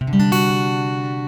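A single acoustic guitar chord is struck and left to ring, sustaining clearly and fading slightly over a second.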